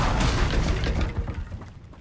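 An Incendio fire spell goes off in Hogwarts Legacy: one short, booming whoosh of flame, dense and close, tapering off within about two seconds.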